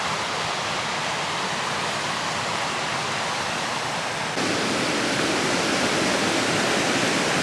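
A waterfall running with muddy water after rains, a steady, dense roar of rushing water without break, loud and close.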